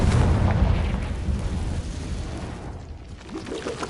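An exploding Confringo fire spell in the Hogwarts Legacy video game, a loud booming blast with rumbling, crackling debris that fades slightly toward the end, heard alone without talking.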